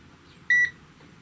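An Owon OW18E Bluetooth multimeter gives a single short, clear electronic beep as its Bluetooth is switched on. The beep is sharp and high and sits over a quiet background.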